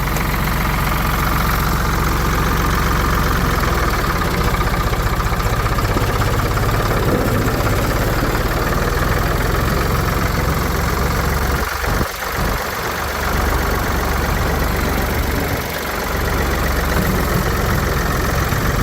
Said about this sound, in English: The engine's not too far off of an idle, and you can see how good we're moving here.